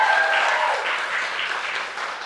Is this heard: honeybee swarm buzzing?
no